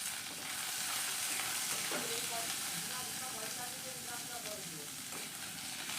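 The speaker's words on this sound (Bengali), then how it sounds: "এটাও ভালো করে ভেজে নিচ্ছি।" Chopped tomatoes frying with ginger-garlic paste and spices in a pan, a steady close sizzle throughout with faint stirring scrapes.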